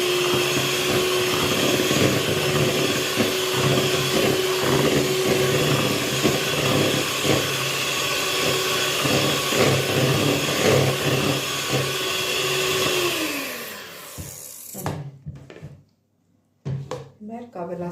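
Batter with added vegetable oil is beaten by a steady, droning electric mixer motor for about fourteen seconds before it cuts off, followed by a few faint clicks and knocks.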